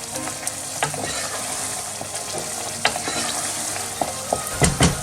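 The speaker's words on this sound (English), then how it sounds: "So let me just stir this first." Chicken and potato curry with garam masala stirred in a hot pan over a gas flame, a steady sizzle and fry with scattered scraping knocks of the utensil against the pan, close and alone.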